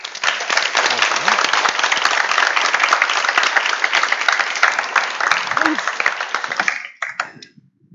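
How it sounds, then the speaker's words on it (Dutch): A Dutch live-event audience gives sustained, dense applause for two speakers, loud and steady for about seven seconds before thinning out and stopping abruptly. "Mag ik een hartelijk applaus voor meneer Peter Kavelaars en meneer Ed Groot."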